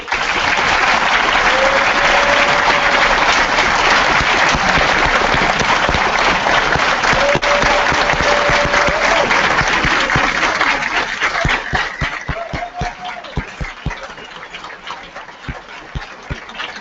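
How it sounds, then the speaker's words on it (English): Loud, sustained audience applause at a general assembly closing ceremony in Bucharest, dense clapping that keeps going for about twelve seconds before thinning into scattered individual claps. "So I would like to thank all of you and do a big round of applause."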